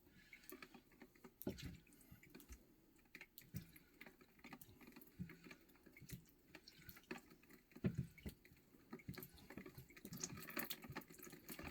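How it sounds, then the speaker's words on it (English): Water drains from a household water filter housing into a bucket, making irregular splashes and drips that rise and fall for several seconds, close by and with no talking. "You're gonna water's gonna go down into that bucket."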